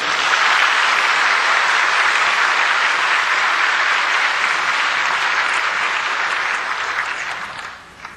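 A church audience gives a guest lecturer a long, loud round of applause, dense clapping holding steady for several seconds before tapering off at the end.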